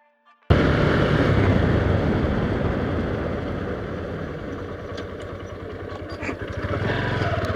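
A motorcycle engine drones loud and close as the bike rides along a road, starting abruptly after a brief silence, with a steady rumble and a rising surge near the end; no talking.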